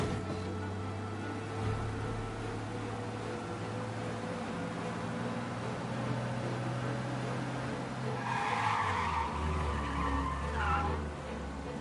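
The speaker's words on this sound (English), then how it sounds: "We lose them by driving real fast and getting clear of them." Video game car driving fast with engine drone and tire skid, held steady through the clip and rising near the end, with a brighter squeal as the tires slide.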